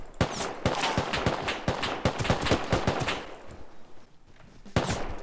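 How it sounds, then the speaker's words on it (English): Video-game gunfire during a survival raid, a series of sharp, loud shots in irregular bursts and single cracks, some in rapid succession, with a brief lull before a final close shot. "Oh, I'm getting shot at."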